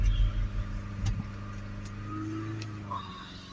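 A car engine held at a steady fast idle of about 3000 RPM during a diesel particulate filter check, a continuous close drone with a few faint clicks over the top and no talk.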